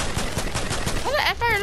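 Rapid automatic assault rifle fire in the video game Fortnite, a dense burst of repeated shots through the first second, followed by brief whistling game effects, with a voice talking over it.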